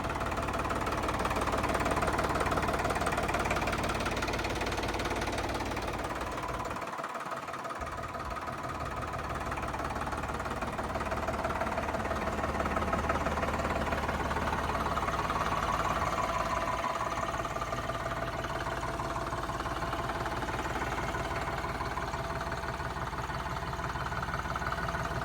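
A Sonalika DI tractor engine idles steadily for the whole stretch, a continuous low mechanical drone with a brief low thump around midway and no talking.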